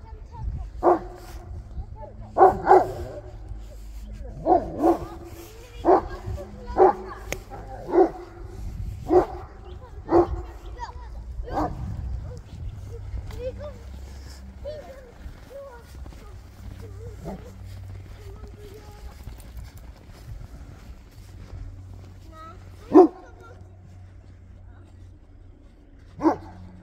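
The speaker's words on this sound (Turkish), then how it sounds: "Köpek var orada babacığım." A Kangal dog barks repeatedly while playing in snow with children, loud separate barks in an irregular series that thin out later, with people talking in the background.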